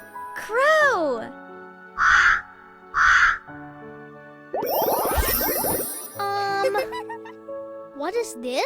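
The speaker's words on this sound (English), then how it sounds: "Crow." A crow caws in short repeated bursts amid a children's picture-word lesson, surrounded by cartoon-style tones and effects, with a voice nearby.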